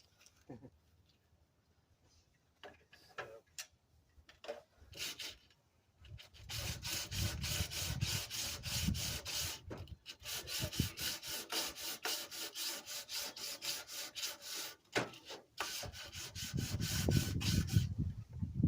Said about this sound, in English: I have to sand them a little bit, smooth out the edges